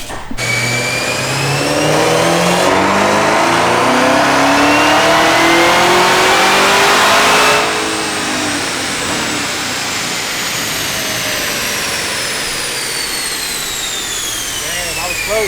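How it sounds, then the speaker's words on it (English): A bone-stock sixth-generation Camaro ZL1 with a 10-speed automatic revs hard on a dyno, climbing in pitch for several seconds, then drops back to a steady roaring run, loud and close. "bone stock, 6 Gen ZL1, 10 speed, on the dyno for a baseline"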